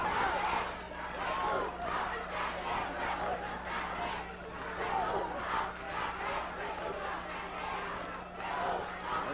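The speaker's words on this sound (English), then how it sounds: "The crowd getting on Hart" A wrestling arena crowd in Louisville jeers and yells at manager Jimmy Hart, a constant distant roar of many voices swelling and easing in waves.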